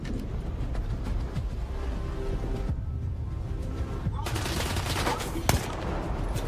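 Sniper rifle fire in a shooting video game, heard as dense loud gunfire and explosive noise throughout, with one sharp crack standing out near the end.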